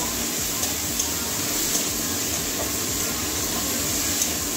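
Potatoes and eggplant fry in a pan, making a continuous, even sizzling hiss. The sound stays close and moderately loud throughout, with faint clinks and no clear speech.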